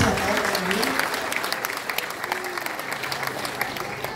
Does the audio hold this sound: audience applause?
yes